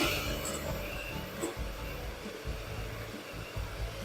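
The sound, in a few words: whisking eggs and sugar for sponge cake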